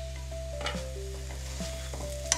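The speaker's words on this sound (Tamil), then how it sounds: "நம்ம உருளைக்கிழங்கு ஃப்ரை ரெடி ஆயிடுச்சு." Potatoes sizzling and frying in a pan for potato masala while being stirred, a steady close hiss broken by scraping stir strokes, no voices.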